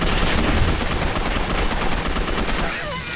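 Rapid gunfire in the online shooter Gotham City Impostors, a dense, continuous burst of automatic shots crackling loudly throughout the short stretch.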